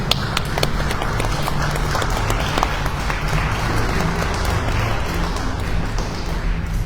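An audience at a literary conference on poetry and reading applauds steadily, a dense, even patter of many hands clapping with occasional louder claps, continuing without pause.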